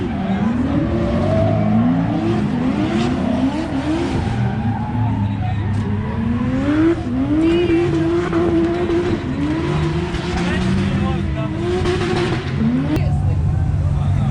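Race car engines in a racing video game, revving and shifting in repeated rising whines with tire squeals, loud and continuous under excited talk from players.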